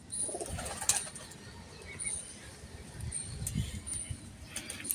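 Soft, low pigeon coos with light wing flutters, faint against a quiet outdoor background.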